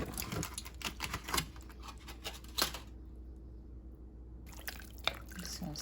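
Chicken bones and skin go into a pot of water, giving small splashes, drips and clattering knocks scattered over several seconds, quiet and close, with a short silent gap.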